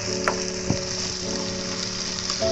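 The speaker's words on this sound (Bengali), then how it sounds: "যতক্ষণ না হালকা গোল্ডেন ব্রাউন হচ্ছে এরমভাবে ভেজে নেব।" Potato pieces frying in oil in a pan for a Spanish omelette, a continuous close sizzle with a couple of brief stirring scrapes.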